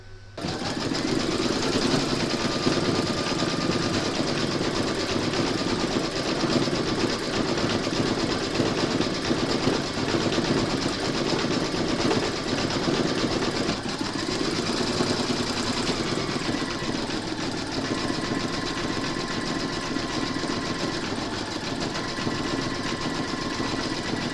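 An embroidery machine stitches an ear outline in pink thread on fabric held in a hoop, a continuous fast mechanical whirring and tapping that runs steadily and close for the whole stretch, with no voices.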